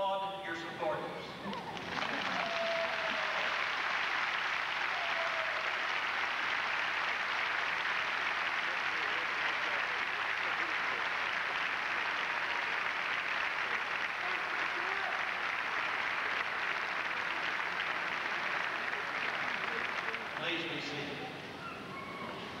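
An arena crowd at a graduation ceremony applauds the graduates' supporters, a loud, dense wash of clapping that holds steady for about twenty seconds before cutting off.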